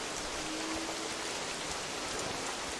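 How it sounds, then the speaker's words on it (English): Steady rain pouring down in the survival game The Isle, a dense, even hiss that holds without a break from start to finish. "it's raining"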